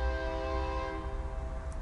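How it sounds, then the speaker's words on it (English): A train horn blares in a long, loud, steady chord close by, with rumbling train noise underneath and no talk. "If the train will stop a honking so I can do my video."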